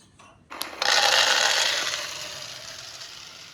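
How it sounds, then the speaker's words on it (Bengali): Dry chickpeas pour into a pan as a dense, rattling hiss. The stream starts abruptly, holds steady and loud for about a second, then thins and fades while scattered grains keep clattering. "ছোলাগুলো ঢেলে নিলাম"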